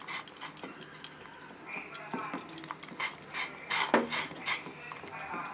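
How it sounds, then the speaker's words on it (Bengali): A spoon scrapes and clinks against a pot while ground sago is stirred into vegetable soup, giving irregular soft rubbing and knocking sounds that grow a little louder toward the end, with no talking. "এভাবে লাড়তে হবে বেশ কিছুক্ষণ"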